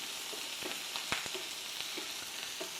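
Garlic frying in a very hot pan, a steady sizzle with a few short stirring clicks and scrapes, fairly close, with no talking.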